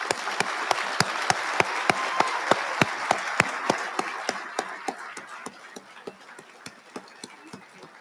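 Audience applause for award recipients at an information awards dinner, with a steady wash of clapping punctuated by sharp, evenly spaced claps that continue throughout and fade slightly toward the end.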